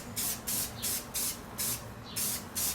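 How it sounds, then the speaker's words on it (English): A spray can paints a still-hot welded metal part gold in short, rhythmic hissing bursts, about seven close sprays in quick succession with no talk. "spray this one gold."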